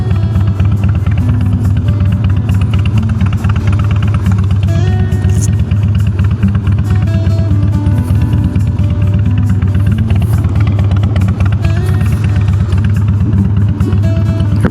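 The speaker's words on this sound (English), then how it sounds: "See what you think of this new exhaust system." Harley Softail Springer motorcycle with a Big Shot Staggered exhaust, ridden on the road: a loud, steady low-pitched engine rumble with wind noise that holds at cruising speed throughout, close and continuous with no talk.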